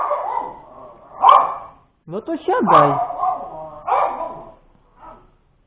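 Dogs on a farm near an MTZ 82 tractor bark in loud, close bursts, several yips and woofs spread across a few seconds, with someone speaking briefly among them.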